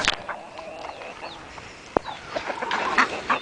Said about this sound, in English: That's a lot of chickens for no eggs.